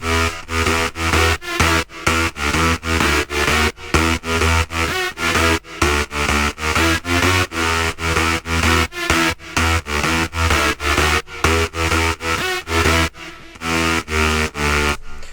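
A loud electronic synth lead plays a choppy, rhythmic melody in short repeated bursts, bright and buzzy, with no voices.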